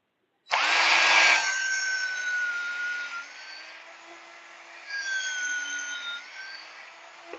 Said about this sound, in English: So, but we're going to drill here